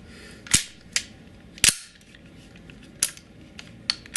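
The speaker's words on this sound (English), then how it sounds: "With green gas, okay, the blowback is not that strong." A KWC Desert Eagle .50AE gas blowback airsoft pistol fires on green gas: five sharp, separate cracks spaced irregularly over about four seconds, each a crisp snap with slide clack, close and loud against a quiet room.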